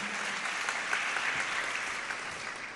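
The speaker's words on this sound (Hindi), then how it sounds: "एक बार उनके लिए भी तालियां बजा दीजिए" A crowd at a Jain religious sermon gathering gives steady, moderately distant applause, an even wash of many hands clapping with no break.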